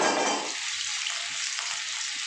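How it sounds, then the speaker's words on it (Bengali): Fish pieces go into hot oil and erupt in a loud hiss that settles into a steady, even sizzle, with no talking. "তেল গরম হয়ে গেছে, আমি এখানে মাছগুলো দিয়ে দেবো।"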